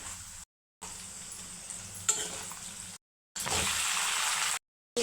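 Coriander and tomato frying for an Andhra-style chutney give a soft sizzle with stirring scrapes, cut into short bursts by brief silences and rising louder near the end.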